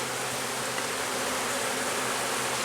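Honey bees hum from an open hive during an inspection of a walk-away split, a thick, constant buzzing close by with no voices.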